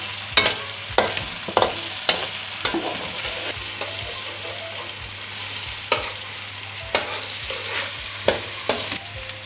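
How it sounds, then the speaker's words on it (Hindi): Green chillies, tomatoes and lemon sautéing in a pot for chicken biryani: a constant sizzle marked by frequent loud spoon clanks and scraping strokes in an irregular rhythm, close and without voices. "अब इसको भी भूनेंगे जब तक हमारे टमाटर सॉफ्ट नहीं हो जाते,"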